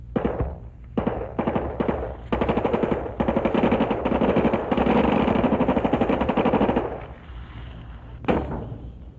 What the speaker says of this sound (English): You fire the M16 rifle on automatic fire.